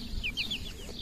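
Young Pekin bantam chickens make a quick series of small, high chirping clucks close by over about a second, with no talk.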